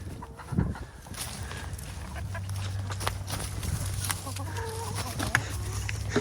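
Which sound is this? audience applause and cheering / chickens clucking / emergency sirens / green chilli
chickens clucking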